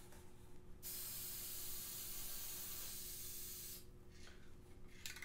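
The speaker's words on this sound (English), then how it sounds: "you invert it and then spray it." An aerosol spray can sprays gold paint in one steady, loud hiss lasting about three seconds, held inverted, with short bursts before and after.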